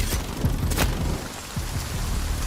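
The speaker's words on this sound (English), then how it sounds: "Also, heavy rain is super loud, so it's gonna be harder to hear footsteps and other things moving around it" Heavy rain in the video game Exoborne, a loud wash of pattering drops with a few low booming thuds mixed in, sustained throughout the short stretch and with no speech.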